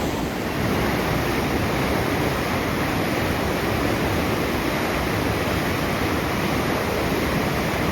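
Whitewater rapids roar on the South Fork Salmon River in the Idaho wilderness at the Fall Creek 2 rapid, a steady, dense rush of churning water that stays loud and unbroken throughout.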